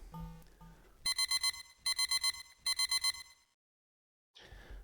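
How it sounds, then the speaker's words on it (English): Electronic pager in a Pokémon game beeping in three quick bursts of four sharp, bright tones, with soft game music before and after. "The pager is beeping."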